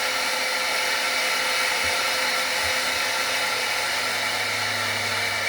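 Spindle motor on a small home-built CNC machine running at speed, a steady loud broadband whir with a constant hum and no change in pitch, alone without talk.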